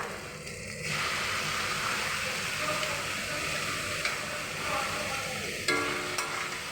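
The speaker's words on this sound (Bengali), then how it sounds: "এবার মশলাটার সঙ্গে খুব ভালো করে আমি মিশিয়ে নেব" Steady sizzling as boiled cabbage fries with spices in a pan, with occasional scraping clicks of a utensil stirring, continuous and close.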